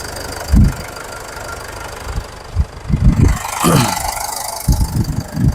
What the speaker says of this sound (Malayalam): അപ്പോൾ നമ്മൾ വണ്ടി സ്റ്റാർട്ടിങ്ങിൽ തന്നെയാണ് ഇട്ടിരിക്കുന്നത്